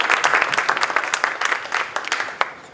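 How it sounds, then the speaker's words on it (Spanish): An audience at a panel discussion gives a round of applause to welcome a speaker, clear individual hand claps within a short, lively burst that tapers off near the end. "Ahora sí, un fuerte aplauso."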